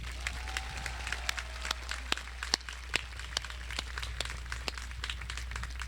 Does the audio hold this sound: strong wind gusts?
no